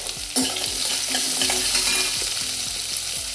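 Chopped onions fry in a pan with curry leaves and dried red chillies while a spoon stirs them, making a loud, close sizzle with scraping strokes throughout and no voices.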